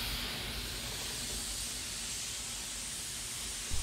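A spray gun hisses in a steady, continuous stream while paint goes onto the roof of a 1987 Chevrolet Blazer square-body truck, close and unbroken throughout.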